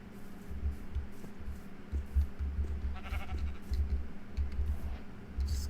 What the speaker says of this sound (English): at least we don't have to kill the sheep